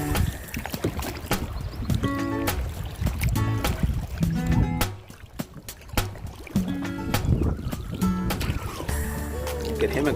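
A kayak paddled on water on a first kayaking outing, with rhythmic splashing strokes and water movement up close, some background voices and other sounds mixed in.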